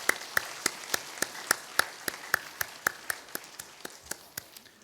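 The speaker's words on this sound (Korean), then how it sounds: "우리 다시 한번 우리 박수로 축복하겠습니다." A church congregation clapping together in slow unison after a baptism, about twenty sharp, evenly spaced claps that ring faintly in the room.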